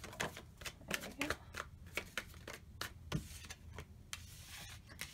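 Tarot cards are shuffled close by in quick, crisp riffling bursts that repeat at a steady rhythm of soft slaps and flutters, with a quiet voice faintly underneath.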